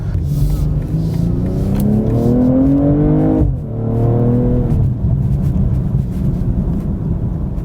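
A loud 2022 BMW M240i xDrive coupe engine revs and roars up through the gears, pitch climbing, briefly dropping, then surging again before settling into a rumbling drone.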